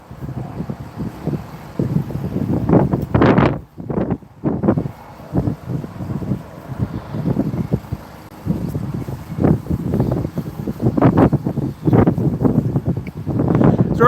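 Gusty wind on a windy day outdoors buffets the microphone in uneven rumbling bursts, loud and close, rising and falling irregularly with brief lulls.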